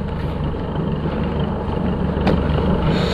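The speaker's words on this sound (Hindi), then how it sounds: "ट्रैक्टर आता हुआ दिखाई दे रहा है।" A tractor's engine rumbles steadily on a road near a ruined castle site, a low continuous drone that holds at moderate loudness throughout, with a brief higher hiss partway through.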